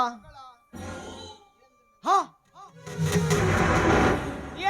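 A gunshot sound effect in a village stage drama in Koppal district: after someone speaks, a loud, rumbling blast rings out and lingers for over a second, close and reverberant.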